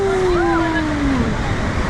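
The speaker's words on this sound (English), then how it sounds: "Oh, look at that waterfall." Rhine Falls in Switzerland roars as a steady, loud broadband rush of falling water heard close from a boat, with a voice speaking over it briefly.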